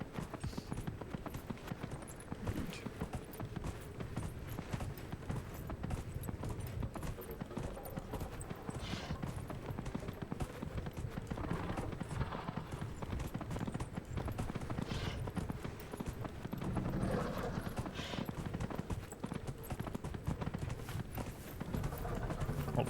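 Horse hooves clip-clop steadily in the video game Dragon Age: Inquisition, near a Dwarven tomb. The rhythm is continuous and fairly quiet, with faint background game sound and no talking.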